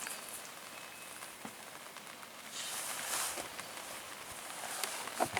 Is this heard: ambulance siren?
no